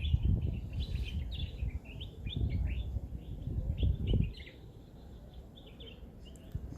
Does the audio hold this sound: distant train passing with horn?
no